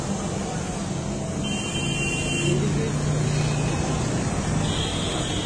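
A car idles at a driving school with a steady, continuous engine rumble and hum that holds level throughout, close and moderately loud, with no talk over it.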